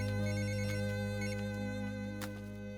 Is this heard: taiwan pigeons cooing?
no